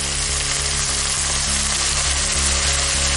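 Veg chow mein noodles with red chilli and soy sauces sizzle loudly in a pan over a high flame, with a continuous roaring fry and a rhythmic scraping of stirring throughout.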